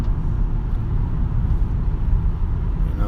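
A car drives along at 4 a.m., its steady low engine and road rumble continuous and close throughout, with no voices.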